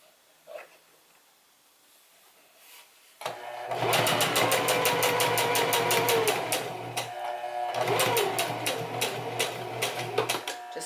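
A sewing machine runs two bursts of stitching, sewing a back tack on a fly zipper for a woman's trousers. The rapid, even, loud mechanical chatter is heard alone, with a short pause between the runs.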